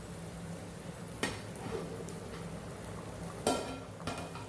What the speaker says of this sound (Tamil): நல்லா கொதிக்க ஆரம்பிச்சிருச்சு பாருங்கள்